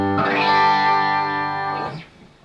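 A clean electric guitar chord rings through a Fryer Touring treble booster pedal, bright and sustained for about two seconds before decaying away, alone with no talking.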